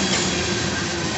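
A BNSF southbound grain train rolls past close by, a loud continuous roar of freight cars with rattling wheels and faint squeal, steady throughout with no voices.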